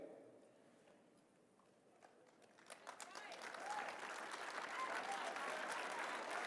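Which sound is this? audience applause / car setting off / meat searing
audience applause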